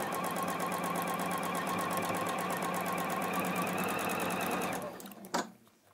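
A Juki HZL-NX7 sewing machine stitches fabric in a steady, fast mechanical whir with a regular pulse, running loud for nearly five seconds before stopping abruptly, followed by a single brief clunk and quiet.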